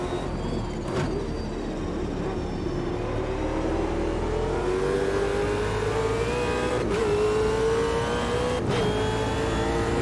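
A Supercars race car engine in the video game Automobilista 2 at Mount Panorama drones steadily and loudly, pitch climbing gradually as it accelerates, with brief shifts and clicks; no voices.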